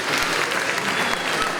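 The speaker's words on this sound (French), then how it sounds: "on peut l'applaudir très très fort" Dense crowd applause at a garden centre evening show, loud and steady throughout, with no pause in the clapping.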